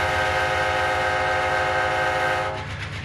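Amtrak Cardinal train departure sounds from a model train sound system at Zanesville: a steady rumbling engine with a sustained horn-like tone over it, loud and continuous, tapering slightly near the end.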